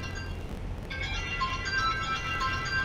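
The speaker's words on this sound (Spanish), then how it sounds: "Suena el teléfono y está lejos, no puedo atenderlo" A phone rings in a repeating electronic tone against low rumbling engine noise inside an American truck, sounding distant and fairly faint.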